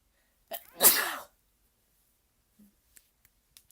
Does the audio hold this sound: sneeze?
yes